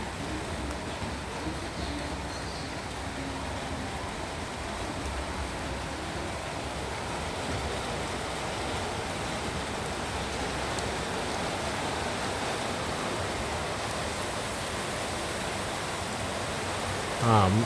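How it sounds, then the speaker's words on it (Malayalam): Heavy rain pours down steadily, a dense, even hiss of falling water that holds at the same level throughout without a break. "മഴ ശക്തമായിക്കൊണ്ടിരിക്കുന്നു."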